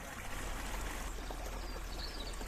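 Clear water running off from an ancient holy well in Glastonbury, a steady close trickling stream with an even, continuous babble.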